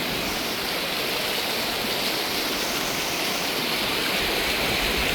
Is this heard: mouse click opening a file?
no